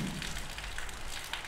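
Heavy rain pours down in a constant broadband hiss, steady and moderately loud, with no voices.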